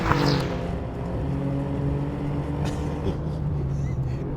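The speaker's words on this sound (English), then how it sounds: "It's properly fast is the Alfa in a straight line." An Alfa Romeo Giulia Quadrifoglio runs fast on a race track, its engine droning steadily at high revs with a sustained tonal roar, while someone talks over it.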